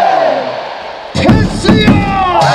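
A baseball crowd in the outfield stands at a Kia Tigers game chants a cheer together, a loud unified shout that bursts in after a quiet lead-in and repeats in rhythmic waves, with an amplified voice over the top.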